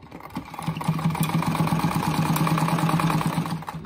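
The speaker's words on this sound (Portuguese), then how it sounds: "Ah, já vou costurar ele direto." A sewing machine stitches a fabric rug close by, a continuous fast mechanical whir with a steady rapid pulse that holds throughout without pause.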